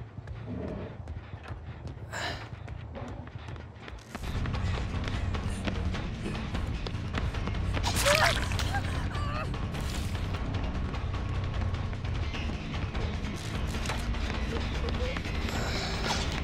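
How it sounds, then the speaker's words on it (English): Footsteps in a video game: a fast run of soft thuds and taps, fairly low and steady, swelling louder partway through and continuing to the end, with a brief brighter knock midway. "I hear footsteps over this way"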